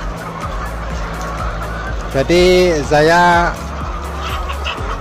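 Arab laying hens give two loud, drawn-out squawking calls in close succession, close by, while someone speaks over the low barn background.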